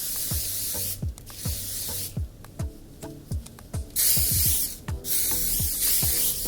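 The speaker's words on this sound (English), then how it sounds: "I'm going to use my spray and play volumizing spray to just really lock in these waves" Several hissing bursts of volumizing aerosol hair spray on waved hair, close by, with rubbing and handling sounds in between.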